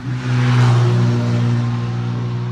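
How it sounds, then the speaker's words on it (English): A steady, droning hum of road traffic with a low engine tone, fairly close and continuous for a couple of seconds. "Highway noise there."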